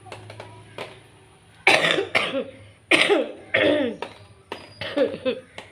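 Several harsh coughs come in repeated bursts, close and loud, with short pauses between them.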